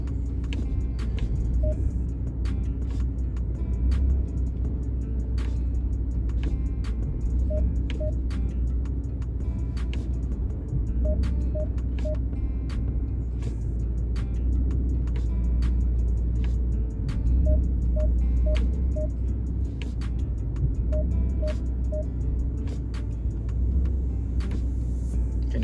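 Idling 2017 Jeep Grand Cherokee as the transmission is shifted back and forth between gears after a fluid drain and fill, a steady low engine rumble with faint clunks and a few small clicks, no talking.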